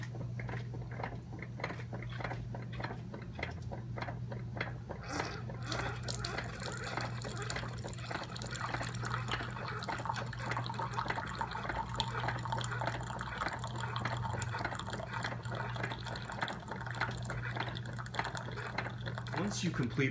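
A Keurig 2.0 coffee machine brewing a K-Cup, a steady pump hum under gurgling, dripping and pouring liquid that grows fuller partway through.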